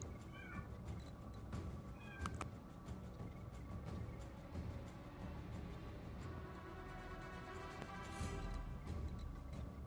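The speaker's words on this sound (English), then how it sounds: "Sorry about the cat, folks." A house cat meows a couple of times early on, close and clear, over a constant background hiss.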